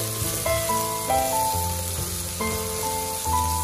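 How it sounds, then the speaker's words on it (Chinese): Minced meat stir-fried in a hot pan, sizzling steadily and loudly while a spatula scrapes and tosses it in a few distinct strokes, close up. "把里面的肉末炒至变色，炒出肉末的水分就会变得更香。"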